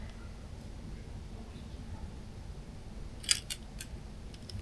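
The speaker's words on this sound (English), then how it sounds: "My keys." Keys jangling briefly near the end, a few sharp metallic clinks close by in a quiet room while packing for a day out exploring.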